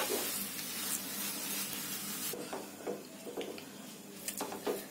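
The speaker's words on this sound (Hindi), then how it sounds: "इसी तरह से मीडियम टू लो फ्लेम पर चलाते हुए हमें इसे बिल्कुल सूखा कर लेना है" A sugar and milk mixture is stirred and scraped in a pan over a medium-to-low flame, with a steady soft sizzle and occasional faint utensil scrapes and clinks.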